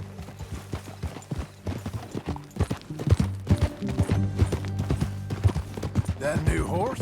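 Horse hooves clip-clop in a steady trotting rhythm while riding in Red Dead Redemption 2, close and fairly loud, with a low musical score and occasional voices over them; a whinny-like sound rises near the end.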